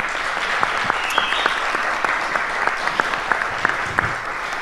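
Steady applause from a convention audience at a dubbing panel for a voice actor, a dense wash of many hands with occasional sharper claps standing out, sustained and fairly loud throughout.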